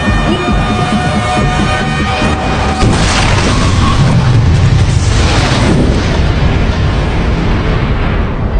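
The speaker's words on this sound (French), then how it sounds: "Après l'explosion" A loud, rumbling explosion in an action film that fills the whole space, followed by a sustained roar and debris-like noise without any pause.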